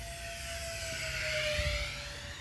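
An RC E-flite Airbus A320neo with twin 64mm electric ducted fans makes a full-speed pass, a smooth, moderate whine with a steady tone that slowly drops in pitch as it goes by, heard outdoors with no talking.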